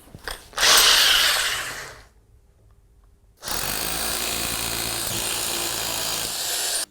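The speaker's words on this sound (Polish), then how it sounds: "Wiertarka do betonu, wiertło dwunastka." Loud, harsh hammer drilling into concrete with a 12 mm bit in two bursts separated by a quiet pause, the grinding noise sustained and close.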